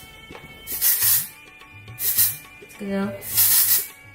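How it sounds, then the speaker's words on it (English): A can of texturizing hairspray is sprayed onto hair in several short hissing bursts, close and fairly loud, with someone talking between and over the sprays. "I'm going to use a texturizing hairspray."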